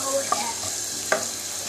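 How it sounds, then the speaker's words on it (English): Milk and spicy pasta mix powder sizzle in a pan as the ingredients are stirred together, with a steady frying hiss broken by two sharp scraping strokes of the spoon, close and alone. "Keep on stirring it"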